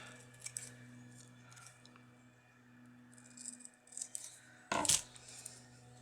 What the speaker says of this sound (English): Let's just cut that piece off.